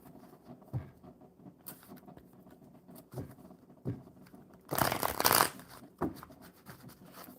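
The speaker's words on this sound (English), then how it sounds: "We'll get these shuffled up real good." Tarot cards being shuffled by hand, quiet soft riffles and rustles spaced out, with one louder, denser burst in the middle, close and alone.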